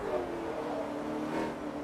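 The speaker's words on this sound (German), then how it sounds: "das ist ein Ferrari California." Ferrari California engine in the racing game Forza Motorsport 3, a steady, loud sustained drone with a slight swell in revs midway, heard alone without talk.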